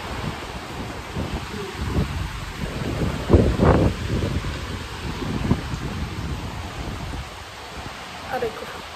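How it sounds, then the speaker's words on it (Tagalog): Heavy rain with gusty wind on the open rooftop of a fourth-floor house, a steady broadband wash with stronger bursts, heard outdoors at close range, with people talking over it. "Lakas ng ulan."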